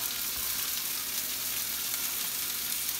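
Garlic sizzling and frying in a pan with broccoli, a steady close crackling hiss that runs unbroken and alone with no talk.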